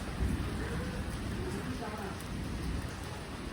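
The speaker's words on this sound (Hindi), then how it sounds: "यहाँ हो रही है बारिश" Rain falls steadily in a continuous, fairly loud broadband hiss of drops hitting surfaces, unbroken from start to end.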